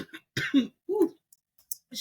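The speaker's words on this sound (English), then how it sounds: "I cannot shake this cough." A few harsh, close coughs with throat clearing, broken into short bursts with pauses between them.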